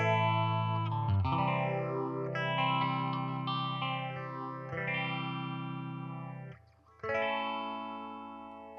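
Electric guitar played through a Warm Audio Mutation Phasor II pedal with feedback set to 3, sustained distorted chords sweeping and swirling with phase movement, loud and alone, with a brief drop before the next chord rings out.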